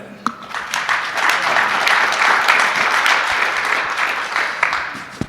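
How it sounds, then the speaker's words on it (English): Crowd applause at a SXSW EDU 2024 panel session, a steady wash of many hands clapping that swells and holds throughout, fairly loud and continuous with no talk over it. "Clap it up for that."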